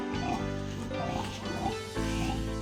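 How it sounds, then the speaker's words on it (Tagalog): Large pigs kept on a rural farm grunt and oink steadily close by, with rough low snorts and a busy background of voices and other farmyard noise. "Maraming baboy dyan."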